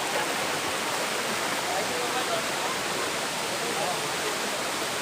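Stream water rushing at the Akashi Ganga waterfall, a dense, continuous roar of flowing water that holds steady and loud throughout.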